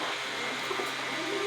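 Shiraz pigeons give soft, low coos beneath a steady, hissy background, faint and somewhat distant throughout the short stretch.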